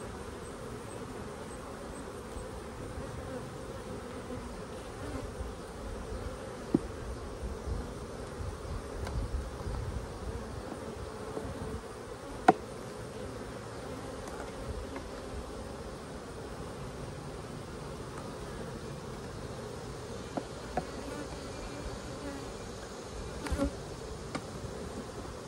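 Honey bees buzzing during a hive inspection, a dense steady drone of many insects close by, with faint clicks and light handling noises scattered throughout and no talk.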